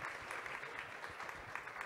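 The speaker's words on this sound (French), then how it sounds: "sous les applaudissements" An audience at a French civil-society talk applauds, a faint, dense wash of clapping from a crowd heard at a distance, steady and brief.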